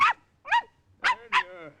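A dog whimpers as it is lifted by the scruff of the neck, giving four short, high, whining yelps in quick succession, close and clear with no talking.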